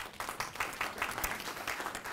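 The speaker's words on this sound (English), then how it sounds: "A round of applause for him." Applause from a university audience greeting a panel member, a soft, steady patter of many hands clapping in the room with no voices.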